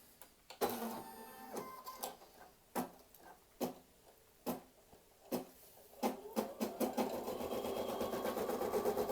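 A home embroidery machine stitches a placement line through hooped stabilizer, sewing with gold thread for an in-the-hoop towel topper: sharp, regular needle ticks with brief pauses, growing into a steady, busier mechanical whir near the end.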